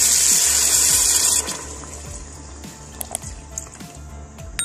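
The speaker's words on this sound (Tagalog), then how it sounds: "So yan guys, nalagyan ko na siya ng tubig" Tap water pours loudly into a cooking pot for about a second and a half, then stops, leaving quieter clinks and handling sounds close by.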